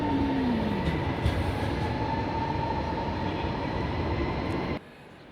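A train at Zaragoza Delicias station rumbles steadily, with a strong high-speed drone, a falling whine and a sustained tone, before cutting off abruptly near the end.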